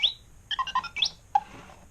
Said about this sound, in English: And it does not only beep, but it moves.